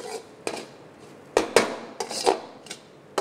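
A metal spoon scrapes and clinks against a pan while transferring egg masala fry onto a plate, a series of close, irregular scraping clatters.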